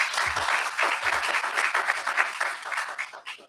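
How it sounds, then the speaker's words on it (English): An event audience gives a short, dense round of applause for the corporate sponsors, a steady crowd clapping that tapers slightly at the end and is heard without speech. "Can we have another round of applause for them,"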